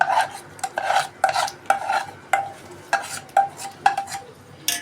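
Cooked rice being mixed by hand with tamarind pulp for pulihora, heard as a rhythmic run of roughly a dozen close, rasping stirs and rubs against a vessel, with no talking.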